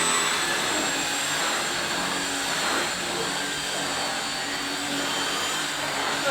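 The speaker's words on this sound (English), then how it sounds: "So yeah, that's the vacuum cleaner." An LG CordZero A9 cordless stick vacuum runs steadily at close range, giving a loud, even motor whine with a hissing rush of airflow that holds constant and never pauses.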